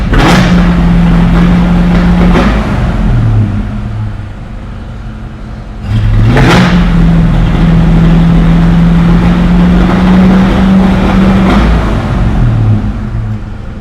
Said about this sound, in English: car stumbles or frankly almost shuts off when you floor it